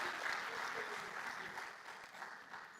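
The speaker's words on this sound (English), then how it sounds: "Applause for Derek." An audience at a Nostr conference main stage applauds for a speaker, steady dense clapping that fades slightly toward the end, with a voice faintly present beneath.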